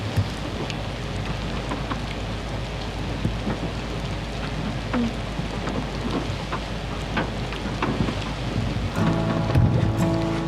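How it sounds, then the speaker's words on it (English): Rain patters steadily on the roof of an off-grid cabin, with a dense, continuous close wash of drops and heavier bursts near the end. "while the rain pattered on the roof"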